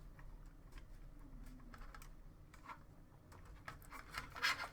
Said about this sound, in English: then just put some tape just on there